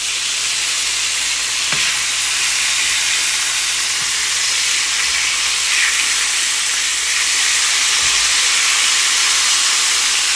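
A walleye fillet sizzles loudly in a hot frying pan just after being flipped, a constant close crackling hiss of oil with a few faint clicks, no talk.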